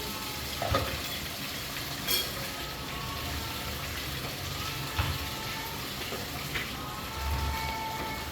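Chicken frying in a pan gives a steady crackling sizzle throughout, with a few louder pops and stirring clatters. No one speaks.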